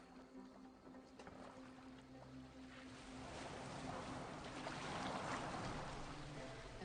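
A boat moving across water in Assassin's Creed Valhalla makes a continuous rushing wash with a low steady hum, swelling gradually louder toward the end, with no voices.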